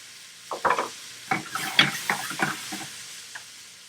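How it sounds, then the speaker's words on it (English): Garlic browns in hot frying oil in a pan, with soft shell blue crab cooking alongside: bursts of crackling sizzle and stirring scrapes come in uneven clusters, close and fairly loud, without speech. "I'm going to add a little bit of garlic to my oil and let that brown"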